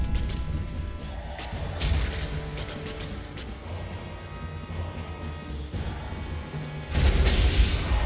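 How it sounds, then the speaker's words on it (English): A Dark Souls boss sets off side fire explosions in a run of heavy booming blasts and crashes over a rumbling game soundscape, and the loudest burst comes near the end. "So he does the side explosions."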